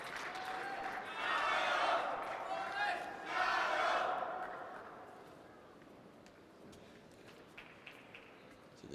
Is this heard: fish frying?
no